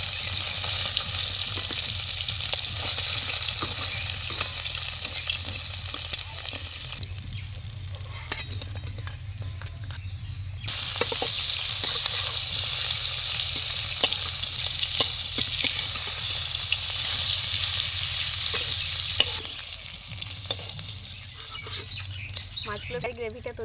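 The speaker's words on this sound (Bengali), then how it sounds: "মাছটা ভেজে নেব এবং খুব অল্প সময়, বেশিক্ষণ মাছটা ভাজলে কিন্তু শক্ত হয়ে যাবে।" Prawns frying in hot oil for a Bengali prawn malaicurry give a continuous loud sizzle and crackle with stirring scrapes, briefly quieter midway before the sizzle returns at full strength.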